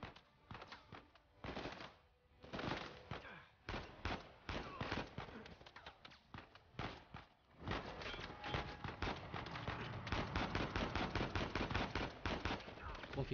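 Rapid bursts of gunfire from the video game Uncharted 4, loud repeated shots in quick volleys throughout, with a voice talking in Spanish between them.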